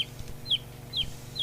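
A chicken clucking in short, evenly spaced calls, about three or four sharp clucks over a low background hum.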